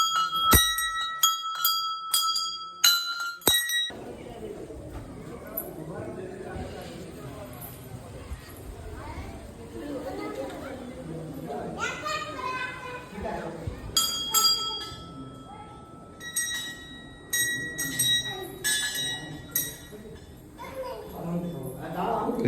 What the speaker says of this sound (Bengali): ঘন্টা কটা বাজাও।